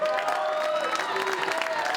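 Crowd applauding and cheering a newly crowned champion at a fight event, a steady dense wash of clapping with voices mixed in, music-like tones running under it.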